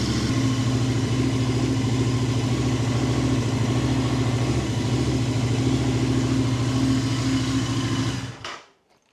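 A Royal Enfield 650 twin motorcycle idles to warm up, giving a steady, close, throbbing engine rumble that holds evenly for about eight seconds before the engine cuts off and goes quiet.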